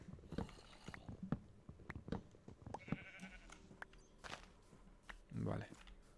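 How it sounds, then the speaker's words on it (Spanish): Sheep bleat in Minecraft, one drawn-out bleat standing out near the end amid scattered footsteps and clicks, quiet overall, with a voice talking at times. "tenemos muchísimas ovejas"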